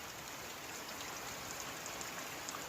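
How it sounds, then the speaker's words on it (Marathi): Heavy, continuous rain falls on a Konkan village on its third straight day, a steady, fairly quiet hiss with no pauses and no voices. "पावसाला आज पण जोर आहे आजचा तिसरा दिवस कंटिन्यूच पडतोय"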